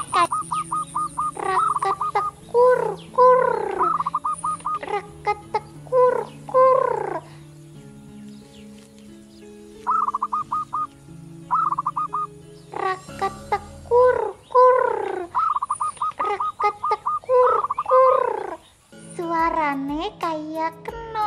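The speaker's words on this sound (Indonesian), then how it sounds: "Tiba-tiba Nyai Sekati mendengar burung perkutut" Zebra doves (perkutut) calling in a rural Banjarnegara setting, with repeated rhythmic cooing phrases rising and falling in clear bursts, fairly close and loud, with brief pauses between phrases.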